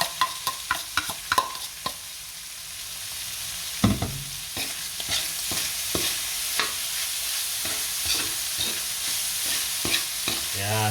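Meat sizzles in a pan, returned to the other ingredients, with rapid scraping and clacking stirs at first, then a steady frying hiss broken by occasional spoon knocks; no talk.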